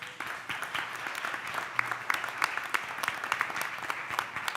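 A room full of people at a school board meeting applauds steadily, a dense patter of clapping hands that holds at an even level throughout.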